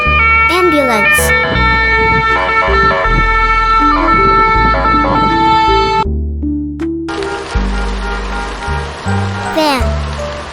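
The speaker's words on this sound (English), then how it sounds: "ambulance," Wailing ambulance siren sweeping up and down over a loud, busy children's music backing, with a second siren-like passage near the end.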